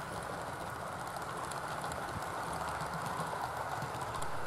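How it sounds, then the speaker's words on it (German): A short InterCity train hauled by an old class 101 electric locomotive pulls out of platform 3 at a station, a low steady rumble and rolling hiss of wheels on rails, fairly faint and continuous. "unser IC, der Kurz-IC mit der alten 101, verlässt nun auch Gleis 3"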